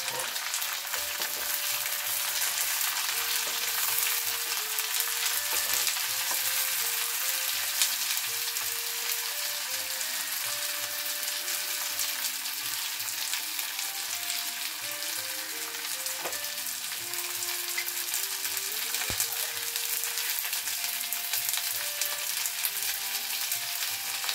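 Shredded cabbage and chopped tomato fry in a pan for a Bengali village-style shol fish and cabbage curry, giving a steady, dense sizzle throughout with occasional soft stirring scrapes and no talking.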